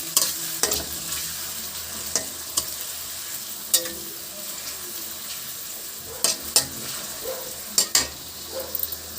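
Onions frying in a pan over medium flame for cabbage curry, browning until golden, a steady close sizzle broken by sharp scraping stirs.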